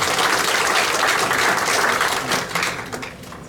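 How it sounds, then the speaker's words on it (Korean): Audience applause fills a hall at an academic conference of the Hwaseong Cultural Center, a dense, steady clatter of many hands that holds strong before tapering slightly near the end. "박수"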